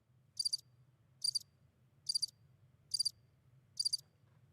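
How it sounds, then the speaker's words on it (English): Crickets chirp as a sound effect: five evenly spaced, high trilling bursts repeat about once a second over a low, constant background hum. "I'll drop the crickets for you."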